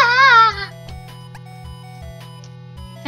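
A house cat gives one loud, drawn-out meow right after being poked on its rear, then falls quiet over a steady low electrical hum with a few faint clicks.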